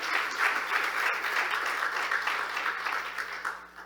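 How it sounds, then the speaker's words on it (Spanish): A church congregation claps together in steady, dense applause during a Spanish-language service, a loud continuous wash of hands with no voices over it, holding for a few seconds before tapering slightly. "Dele un fuerte aplauso al Señor"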